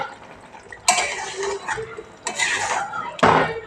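A pot lid is lifted off goat meat braising in oil, giving three sharp metallic clatters spaced apart over a low kitchen background.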